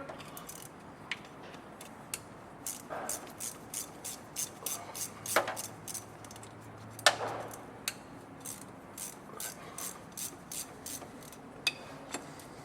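Metal-on-metal clicking and ratcheting as bolts are undone on the housing of a part-time 4WD kit for a Toyota 80/100 Series, with a steady run of sharp, close ticks and a few louder clanks, no talk.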